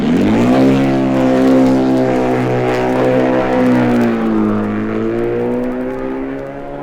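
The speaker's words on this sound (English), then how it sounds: "he made a magnificent start on his BMW twin" A BMW twin racing motorcycle pulls away at the start of the 1958 Senior TT, its loud, steady engine note holding a sustained pitch and rising slightly before easing off.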